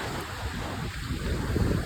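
Sea waves heard from a boat off Pondicherry: a steady, rumbling wash of water overlaid with heavy wind buffeting, continuous throughout with no voices.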